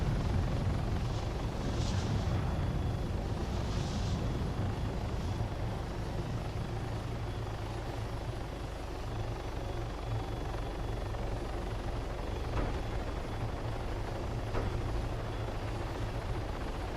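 Helicopter in a Vietnam War video game, a steady low rotor thrum that holds loud and continuous throughout with no voices over it.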